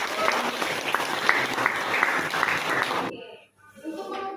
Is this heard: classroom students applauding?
yes